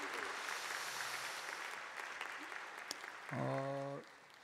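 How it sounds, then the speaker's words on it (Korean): Church audience at a Korean diaspora mission conference applauding the OBC ensemble, a faint steady wash of clapping in a large hall, with a brief musical tone near the end. "우리 저 나가실 때까지 박수 한번 다시 한번 하시죠."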